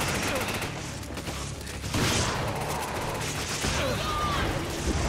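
Gunfire from enemy snipers and automatic weapons in Resident Evil 5, with dense, continuous shots and mechanical clatter under a loud game mix, swelling after the first couple of seconds.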